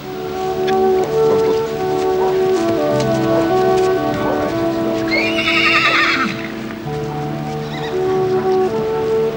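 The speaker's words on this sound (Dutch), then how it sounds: "Maar het meest dankbaar zijn we toch ons trouwe paard Edda... dat ons 1450 kilometer lang heeft voortgetrokken" A horse pulling a covered wagon neighs loudly with a long whinny over steady hoof clip-clop and rain pattering on a surface, close and continuous, with tonal background music running throughout.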